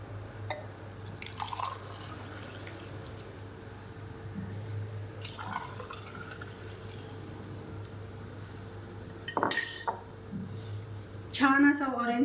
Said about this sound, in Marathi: आपण हा ज्यूस आता गाळून घेऊया।